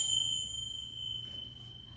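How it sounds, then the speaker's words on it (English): Chimes ring out to close a relaxation visualization: high, clear sustained tones hang in the air and slowly fade, soft and unaccompanied by speech. "I'm just going to finish with the chimes then,"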